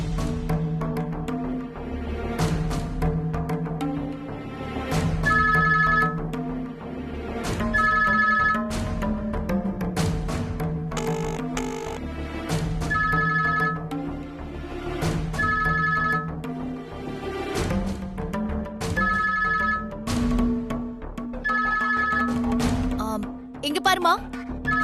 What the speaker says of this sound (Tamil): போன் அடிக்குது பாரு.